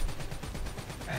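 Rapid automatic gunfire in the Black Ops III co-op campaign, a fast burst of shots that sounds fairly distant and muffled, lasting just over a second.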